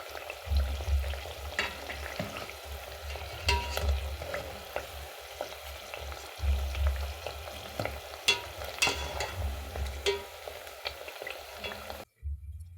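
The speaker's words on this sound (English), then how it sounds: "Into our frying pan until it all gets golden brown." Banana cake batter sizzles and crackles steadily in a hot frying pan, with occasional scraping and stirring sounds, close and continuous before cutting off abruptly.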